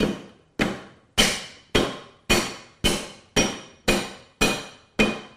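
Lemongrass pounded for a marinade, ten sharp, evenly spaced heavy thuds about half a second apart, each ringing briefly and fading, close and loud with no talk.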